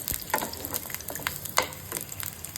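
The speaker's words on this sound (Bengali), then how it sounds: "এইভাবে ভেজে নিতে হবে, যাতে পেঁয়াজগুলো লাল লাল করে ভাজা হয়ে যায়" Onions frying in oil: a soft, steady sizzle with light scraping and clicks from stirring, with no talking.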